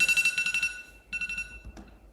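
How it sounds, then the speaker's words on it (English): Alarm clock ringing in rapid electronic beeping bursts, a fast pulsed run of bright tones, a short pause, then a second shorter burst, close and clear with no voices. "That's my alarm clock for work."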